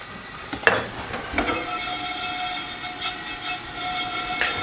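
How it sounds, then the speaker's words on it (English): Sesame seeds stirred and toasting in a pan, with a soft steady sizzle and a few sharp scraping clicks of the utensil, faint tonal hums running underneath. "Just make sure you keep those sesame seeds on the move"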